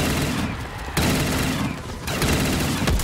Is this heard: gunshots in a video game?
yes